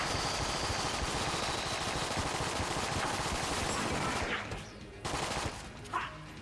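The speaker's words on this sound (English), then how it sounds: "we're definitely firing more than 100 shots in our clip now" Rapid, relentless gunfire from the video game Enter The Gungeon, a dense stream of shots that sounds like machine-gun bursts and thins out into a few scattered blasts near the end.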